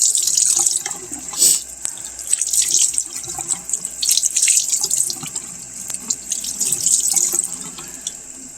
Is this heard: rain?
no